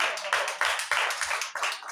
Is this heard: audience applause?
yes